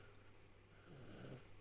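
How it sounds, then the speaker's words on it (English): A baby boy snores softly in his sleep, faint, slow breathy rasps over a low steady hum, with a slightly fuller snore near the end. "He's snoring just like his dad"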